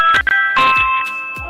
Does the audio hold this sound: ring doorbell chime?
yes